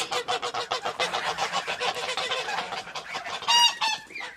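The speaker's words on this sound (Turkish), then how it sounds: "Daha önce izleyenler bu kazların yavru halini bilirler." Several geese honk over and over on a village farm, loud and close, in a dense, overlapping chorus of nasal calls with a few sharper cries near the end.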